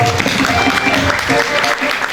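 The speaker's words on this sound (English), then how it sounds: "Keep clapping, audience." An audience at a school award ceremony applauds a district-level athletics medalist, a continuous wash of clapping with faint background music or voices underneath, fairly loud and even.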